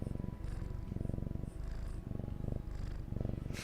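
A relaxed cat purrs close by, a loud, steady rumbling purr pulsing in even cycles of inhale and exhale, with no other sounds.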